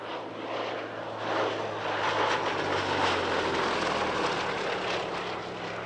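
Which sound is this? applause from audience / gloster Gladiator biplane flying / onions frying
gloster Gladiator biplane flying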